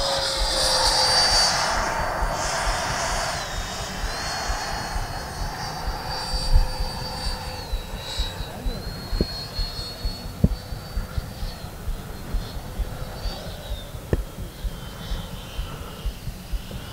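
A Freewing F-22 90mm electric ducted-fan RC jet whines loudly overhead, its high turbine tone falling in pitch as it comes in to land, followed by scattered thumps and rolling noise on touchdown.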